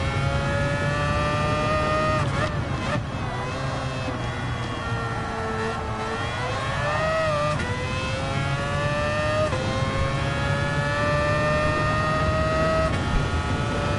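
A car engine in the Gran Turismo 7 video game whines steadily while driving, its pitch climbing, dropping at shifts and climbing again, kept fairly quiet and continuous with no talking.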